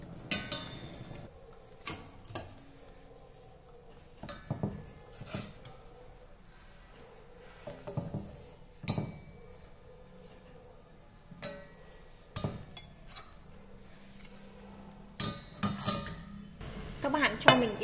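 Cooked glass noodles are scooped out of a pot, with scattered clinks and knocks of a utensil against metal at an irregular pace over near silence.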